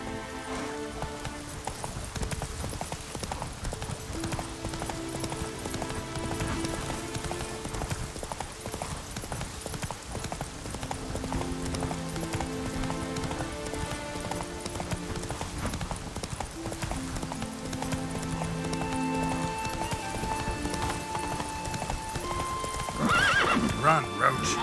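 In The Witcher 3: Wild Hunt, a horse gallops with rhythmic hoofbeats over rain and game music, and a neigh sounds near the end. Someone speaks over the hooves.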